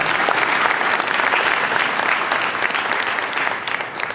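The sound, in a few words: audience applauding the authors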